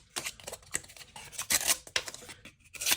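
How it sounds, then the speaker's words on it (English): A Benchmade out-the-front knife blade slicing through cardboard, giving a run of scratchy, ripping cuts in short bursts at close range, with no voices. "And it will cut that cardboard."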